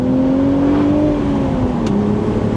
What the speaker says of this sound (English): That's a really nice upshift.